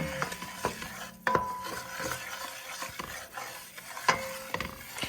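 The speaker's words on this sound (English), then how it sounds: "And you just keep stirring." A spoon stirring a bubbling roux in a pot over medium heat, with close, irregular scrapes and knocks against the pot over a soft, continuous simmering crackle.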